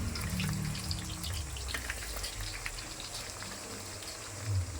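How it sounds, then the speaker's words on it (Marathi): Chopped onions fry in a large pot of about twenty litres of hot oil for homemade hair oil, giving a continuous bubbling, crackling sizzle at close range with no voices. "तेल उकळलेलं आहे तर त्यामध्ये मी आपण वीस लिटर तेल करणार आहे त्यात एवढा सारा कांदा घालून घेत आहे"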